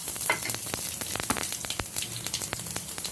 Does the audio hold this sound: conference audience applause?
no